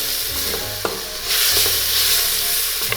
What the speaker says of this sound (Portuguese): Dá uma refogadinha.